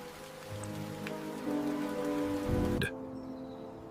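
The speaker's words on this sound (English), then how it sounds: "Rain falls." Steady rain falls outdoors in a continuous, even patter, moderately loud and alone with no voices.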